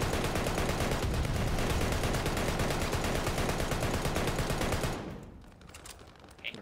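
Sustained rapid automatic gunfire rattles loudly in Call of Duty Vanguard multiplayer, a dense fast burst lasting several seconds before cutting off to quieter game ambience with a few faint distant sounds.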